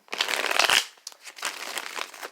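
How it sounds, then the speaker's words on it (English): A deck of tarot cards being shuffled by hand, a burst of riffling bursts and soft slaps, close and fairly loud, with no talking. "it helps the information from the cards flow easier to me if I shuffle while I talk"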